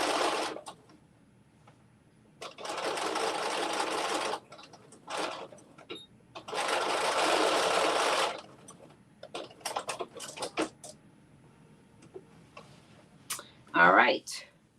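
A domestic sewing machine stitches a McCalls 7892 garment in bursts of steady running, with shorter stops and starts between, while a person talks nearby.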